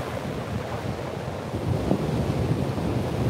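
Ocean waves break into frothy, foamy surf, a loud continuous roar and wash buffeted by wind noise on the microphone, swelling slightly toward the end.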